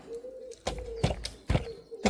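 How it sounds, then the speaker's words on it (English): Pigeons coo nearby in a few soft, repeated low calls, steady and close, with no talk over them. "But you can hear the pigeons."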